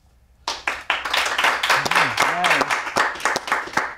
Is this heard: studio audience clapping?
yes